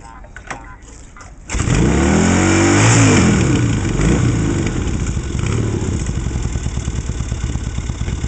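A battery-less, kick-start-only Yamaha XS650 with a PMA charging system catches after faint kicks, then fires up loud and close, revving before settling into a steady, throbbing idle.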